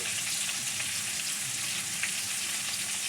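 Potatoes fry in a pan of oil, a steady dense sizzle running close and loud for the whole stretch, with faint scraping underneath and no voices.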